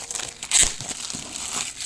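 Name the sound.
unboxing HUAWEI Eyewear 2 audio glasses, crinkling packaging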